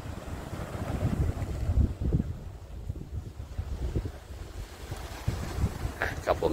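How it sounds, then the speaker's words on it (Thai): Sea wind and breaking waves at a beachside restaurant, a steady rushing roar with gusty buffeting on the microphone and low surging swells throughout. "นี่บรรยากาศของคลื่นลมทะเลแบบนี้เลย"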